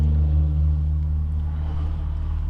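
A heavy lorry rumbles past on a nearby road, a loud, steady low drone with engine harmonics lasting throughout and swelling slightly at the start.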